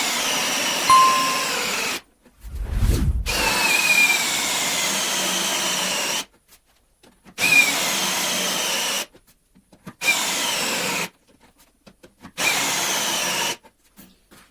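A DeWalt cordless drill with a large bit bores into wood in several loud sustained bursts, each a few seconds long, separated by short pauses and a brief low thump.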